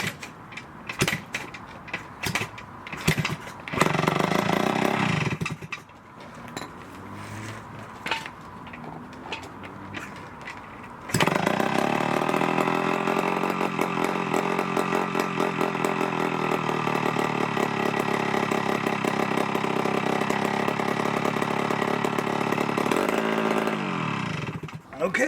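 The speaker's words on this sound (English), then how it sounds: "I guess you can run an engine without a head gasket." An engine running with no head gasket: sputtering, uneven starting attempts give way to a loud, steady, rattling run that lasts about fourteen seconds and then stops abruptly.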